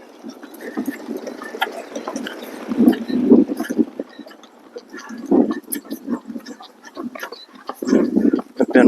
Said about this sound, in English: It's a real windy day here,